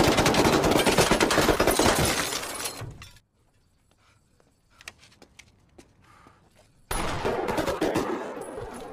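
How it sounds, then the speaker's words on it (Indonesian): Loud sustained machine gun fire, rapid and close, stops abruptly into near quiet with scattered clinks, then erupts again in another heavy burst. "Ray mengeluarkan senapan mesin pemberian sahabat baiknya dan bersiap-siap untuk menghujani mobil itu dengan tembakan."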